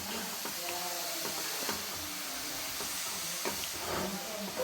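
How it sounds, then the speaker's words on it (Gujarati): Grated carrots for gajar halwa being stirred and roasted in a pan, a steady close sizzling hiss with occasional scraping from the spoon, no talking. "તો જોઈ શકો છો બધું ગાજર નાખી દીધું છે ને હવે અમે મિક્સ કરી રહ્યા છે"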